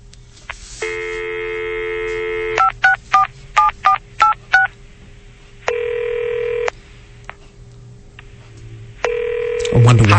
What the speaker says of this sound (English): I wonder why it has to ring.